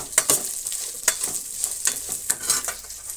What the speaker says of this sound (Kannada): ಇದರ ಜೊತೆಗೆ ಸ್ವಲ್ಪ ಜೀರಿಗೆನ ಸೇರಿಸ್ತಾ ಇದ್ದೀನಿ ಇಷ್ಟು ಚೆನ್ನಾಗಿ ಫ್ರೈ ಆಗಲಿ